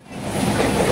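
The Karnavati Express between Mumbai and Ahmedabad running at speed, a steady loud rumble and rolling roar heard close from on board, with no talk.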